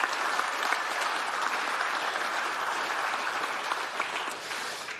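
Innovation awards audience applauding the five finalists, a dense, even roar of clapping from a large crowd sustained throughout, easing slightly near the end.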